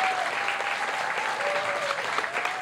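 Concert audience applauding as a band member walks on stage, a loud, even wash of many hands clapping that carries straight through with no pause.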